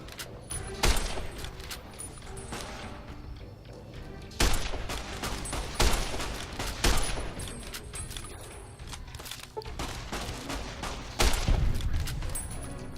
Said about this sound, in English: I guess I just shot him